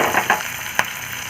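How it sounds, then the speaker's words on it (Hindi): Green chilies and tomatoes sauté in a pan, a short steady sizzle up close with a few soft stirring clicks. "फिर इसमें हरी मिर्च और टमाटर भी डाल देते हैं। इनको थोड़ा सा भून लेते हैं"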